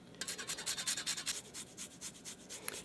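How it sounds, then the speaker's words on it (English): Parmesan cheese rubbed against a grater for a 1941 one-skillet spaghetti and meatballs recipe, a run of quick rhythmic rasping strokes, close and fairly soft, with no talking. "I'm gonna grate in some Parmesan"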